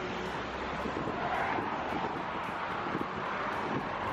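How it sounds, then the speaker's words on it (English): Strong outdoor wind buffets the microphone, a loud continuous roar that barely varies across the whole stretch, with no speech. "Battling with the wind here."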